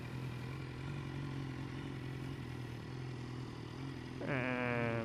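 A 2015 BMW S1000R motorcycle idles and rides slowly through a tight turn, its steady low engine drone rising into a louder rev near the end, close by with no talk.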